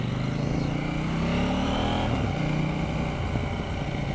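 A KTM 790 Duke motorcycle ridden on wet roads in the rain on new tyres gives off a steady, close engine drone mixed with wind and road hiss, while a rider talks over it.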